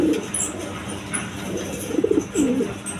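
A pair of young Indian Bombay pigeons coo in low, rolling phrases close by, with several coos clustered toward the end over a faint background hum.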